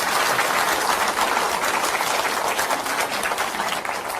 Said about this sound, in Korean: 한번 큰 박수 부탁드리겠습니다